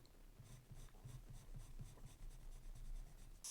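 A watercolor pencil in dark sepia scratches across paper in quick repeated strokes, a close, soft rhythmic scribbling with no talking.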